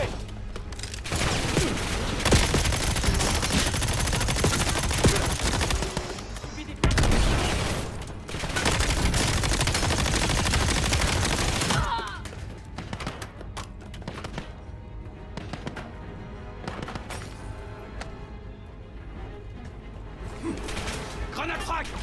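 Sustained heavy gunfire and explosions roar through a combat scene in Call of Duty Black Ops 7, a dense loud fusillade lasting about twelve seconds. Quieter scattered shots and battle ambience follow.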